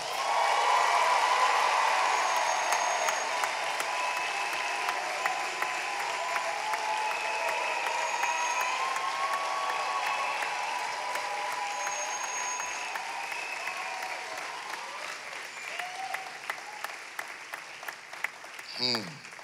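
A congregation clapping at a church gathering service, sustained loud applause from a crowd that holds steady for a long stretch before slowly thinning out.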